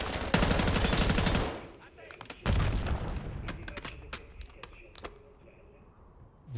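Gunfire in a video game, with a loud sustained machine-gun burst, a second heavy volley, then scattered single shots trailing off, voices faintly underneath.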